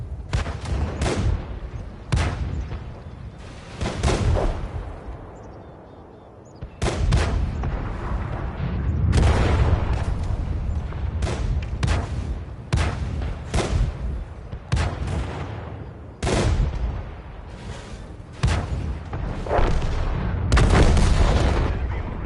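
Rapid tank cannon fire from the World of Tanks video game, a dense run of loud booming shots and blasts repeating irregularly through the whole stretch, with little pause between them.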